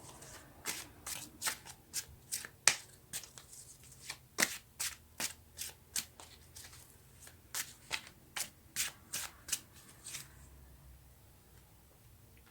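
Tarot cards are shuffled by hand in a quick, close series of riffling bursts, a dozen or more short flutters in an uneven rhythm with brief pauses between.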